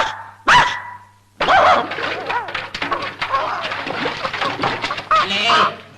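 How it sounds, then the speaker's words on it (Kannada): Dog barking amid a comic scene, with sharp barks and yelps mixed into busy, overlapping voices and background clamor throughout. "ಮತ್ತೆ ನಾಯಿ ಬೊಗಳ್ತಾ ಇದೆ."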